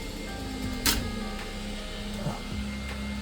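3D printer running while printing a flared port, a low continuous mechanical hum with faint stepper whirs and a brief click, close and steady, no talking.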